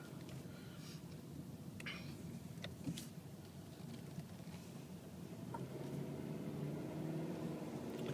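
Nissan car with a CVT transmission accelerating from 0 to 60, a steady engine drone that rises and strengthens over the whole stretch, heard from inside the cabin with no talking.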